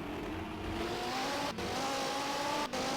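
A race car in a sim-racing game at Sebring's 12-hour event holds a steady, high-revving engine drone, loud and continuous, broken by two brief dips in the sound.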